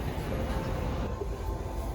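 Steady rumble inside a moving night train near Vienna, continuous low rolling noise with faint rail hum throughout, no talking.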